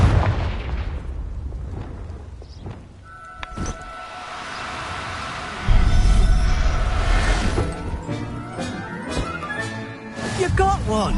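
Confringo spell explosions in Hogwarts Legacy on PlayStation 4 Pro, several booming blasts and bursts amid combat noise, the loudest around the middle, with game voices speaking in between.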